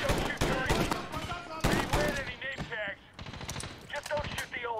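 Machine-gun gunfight in the video game Medal of Honor (2010), with rapid bursts of automatic fire layered over loud, dense battle noise and voices throughout.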